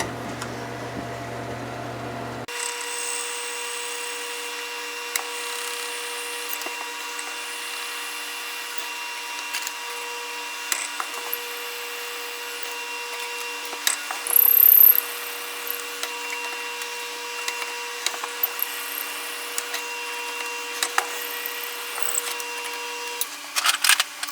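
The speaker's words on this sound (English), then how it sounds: "I want to drill it on my lathe just to make sure we're centered up." A lathe drilling into a blank gives a steady machine hum with tonal whine throughout, broken by occasional sharp ticks and a brief louder grinding burst midway, no talk.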